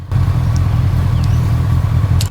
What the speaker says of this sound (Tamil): வண்டியோட ஐட்லிங் சவுண்ட் கேளுங்களேன்